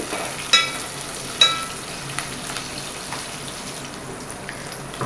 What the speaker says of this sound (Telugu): తర్వాత అందులోనే పచ్చిమిర్చి వేసి కలపండి